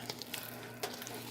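A spoon working through pumpkin chocolate chip loaf batter in a bowl, faint soft scraping and wet clicks in a short irregular rhythm over a low steady hum, with no one speaking.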